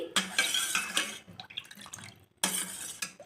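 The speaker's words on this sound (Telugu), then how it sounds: "ఇప్పుడు వీటంతటిని బాగా కలుపుకుంటే పానకం అనేది రెడీ అయిపోతుంది" A spoon stirring panakam, a jaggery water drink with pepper powder, in a vessel for Sri Rama Navami: quick clinking and swishing scrapes against the container, close and fairly faint, in short repeated strokes.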